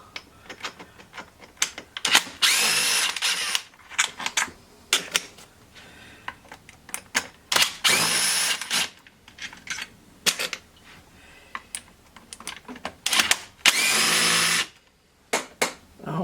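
Bursts of a power drill backing screws out of the bottom of a Craftsman 2.2 36cc chainsaw during a teardown, several loud whirring runs of a second or two separated by short pauses, with no talking.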